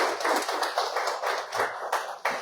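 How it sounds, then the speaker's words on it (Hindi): Audience applause at a satsang gathering, a steady burst of hand-clapping from a crowd, close and fairly loud, continuing evenly for a couple of seconds with no talking over it. "तो उसके लिए एक बार जोरदार ताली होनी चाहिए।"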